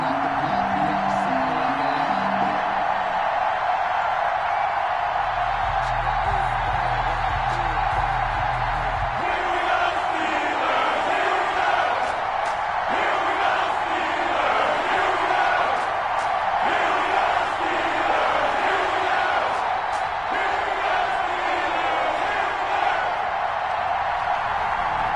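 A stadium crowd in a Madden NFL game on PS4, with the Cleveland Browns facing the Pittsburgh Steelers, roars and cheers continuously at a dense, steady level, while a commentator's voice talks over the noise in places.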